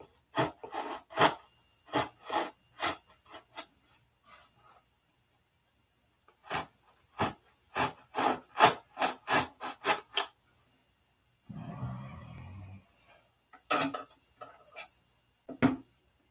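Sandpaper rasping against wooden ribs in fast back-and-forth strokes, coming in bursts of several strokes separated by quiet gaps, close and crisp, with a duller rubbing patch partway through and no talking.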